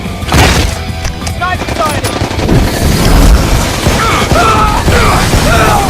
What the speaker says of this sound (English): They've got stun grenades!